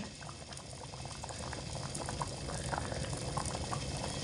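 Khichuri of rice and lentils with mixed vegetables bubbles in a pot, giving a steady, dense, moderately quiet boiling burble with soft popping bubbles and no talk.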